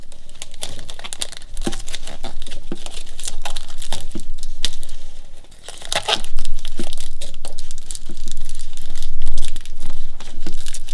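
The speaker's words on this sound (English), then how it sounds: "I'm going to use some clear tape just around to go around." Clear tape tears and crinkles loudly and close up as it is wrapped around a plastic bottle model of a copepod. Bursts of rustling and ripping run throughout with no voices.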